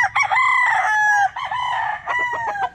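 Young imported gamecock stags crowing in quick succession, two or three overlapping calls close by, loud and alone with no talk.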